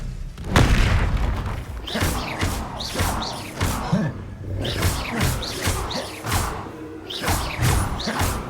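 Bombarda spell blasts go off in a Hogwarts Legacy battle, heavy booming thuds repeating about every second amid whooshes and crashes, loud and close throughout.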